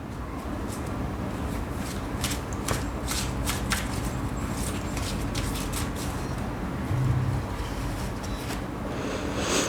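Guidance cards being shuffled for a tarot-style card reading, a steady papery riffling and sliding that runs continuously at close range, with no voices.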